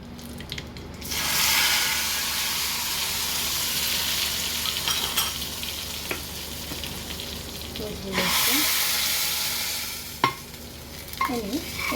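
Hot tempering oil with curry leaves poured into mango pulissery, a Kerala yogurt curry, bursts into loud close sizzling that fades to a steady hiss, then flares again with a second splash and a few clinks.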